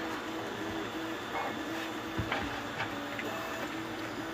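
Kobra 3D printer running a print, a steady mechanical whir with faint repeating stepper tones and light ticks, close and continuous without speech.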